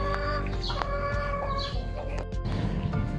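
Chickens at a goat farm in Ras Al Khaimah cluck steadily and close by, mixed with chirping birds over a dense, continuous farmyard background with no talking.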